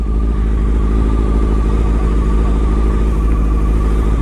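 Motorbike engine in a video game, droning loud and close in a constant, even hum without revving changes throughout, with no speech over it.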